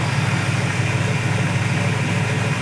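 A 1972 Chevy C10 pickup with a big block engine, headers and no exhaust leak idles steadily, a loud, even low rumble heard up close with no talking.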